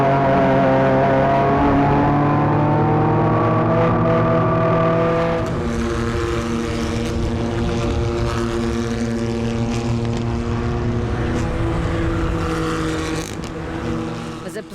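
Kia Picanto GT Cup race cars lapping at Portimão, with a loud engine note rising through the gears as a car passes close, then more engines droning on behind, and a voice speaking over the track sound.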